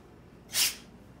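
A single short sneeze bursts out near and fairly loud, then fades into quiet room tone, with no talking.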